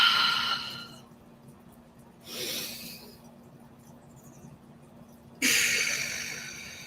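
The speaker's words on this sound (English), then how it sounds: "take 3 deep breaths with me" Three slow, deep breaths, each a long airy inhale or exhale with quiet gaps between them, close to the microphone and with no talking.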